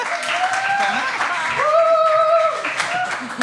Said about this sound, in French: On les applaudit un petit peu, s'il vous plaît.